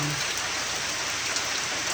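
Heavy rain falling and pattering on a surface, a continuous hiss with no voices.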